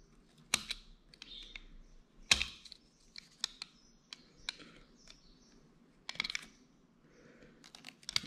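A utility knife picks and pries at glued motor connectors on an Emax Tinyhawk 2 drone, sharp close clicks and scrapes in irregular bursts separated by quiet gaps.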